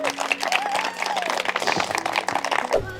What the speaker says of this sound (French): je crois qu'on peut applaudir très fort nos deux amoureux